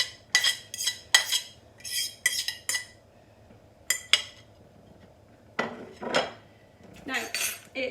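Mashed bananas are spooned into a bowl of banana bread batter, with clinking and scraping of a metal utensil against the bowl in quick bursts separated by short quiet gaps, close and crisp.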